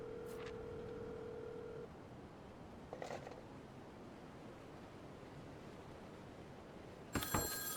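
A telephone rings in the horror visual novel game Contra Spem Spero, with short sharp ring bursts cutting through a steady, noisy ambient drone, the loudest burst coming near the end.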